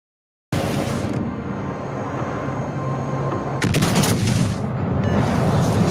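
Heavy naval guns boom in a battleship video game, a dense continuous barrage of gunfire and explosions swelling louder near the end, with no talking.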